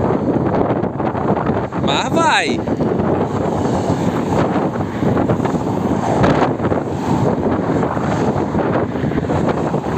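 Strong gusting wind buffets the microphone beside a FIMI X8 Mini drone in flight, a steady loud roar throughout with someone talking over it.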